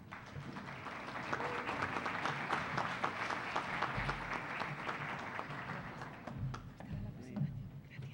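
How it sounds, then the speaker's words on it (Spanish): Audience applause welcoming a speaker at an international constitutional law congress, a steady roomful of clapping lasting several seconds before thinning out, with faint voices underneath. "Démosle la bienvenida con un fuerte aplauso."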